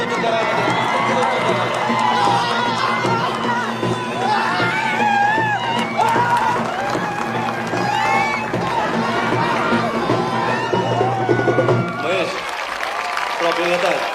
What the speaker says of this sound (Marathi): आपण सगळे टाळ्या वाजवून पिठरगावच्या जास्त संघाचं कौतुक करावं